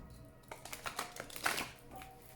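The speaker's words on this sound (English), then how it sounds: "Please think of your question as I shuffle the cards." Oracle cards being shuffled by hand, a run of soft papery riffles and slaps in uneven bursts, close and quiet, with no talking.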